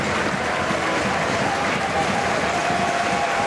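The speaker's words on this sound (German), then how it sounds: "da bekommt er auch von den Alltag-Fans Applaus" A football stadium crowd applauds a substituted player leaving the pitch, a steady, distant wash of clapping that holds throughout, with a commentator talking over it.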